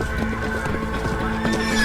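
Horses neigh and whinny repeatedly at a ranch, with hooves clopping underneath in a busy, fairly close, continuous mix.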